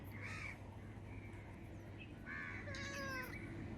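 A cat meows a few times, short nasal cries spaced apart over a quiet room hum, the later ones longer and more drawn out.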